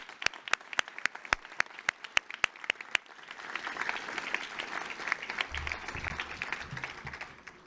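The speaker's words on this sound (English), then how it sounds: "One more round of applause for all of our new inductees." A few sharp, separate claps ring out before a school audience breaks into sustained applause at a National Honor Society induction ceremony for new members.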